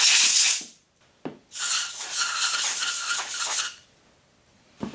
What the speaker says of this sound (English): Some compressed air, blow out these bearing cages.